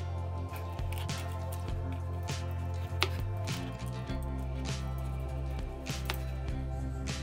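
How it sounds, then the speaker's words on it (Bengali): Potatoes being chopped into pieces with a knife on a board for a mutton curry, with a series of irregular, fairly close knocks and wet squishy cuts over a low steady hum. "চলো এবার মাটনের জন্য আমরা আলুগুলো পিস করে কেটে নিই"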